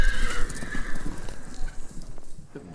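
A horse neighs loudly at the start, its whinny trailing off, with hoof clip-clop and busy background noise running throughout.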